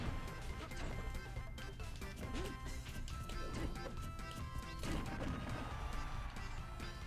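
Sheik's forward smash attacks in Super Smash Bros. Wii U: repeated sharp whacking hits popping out over busy game music and crowd-like background noise.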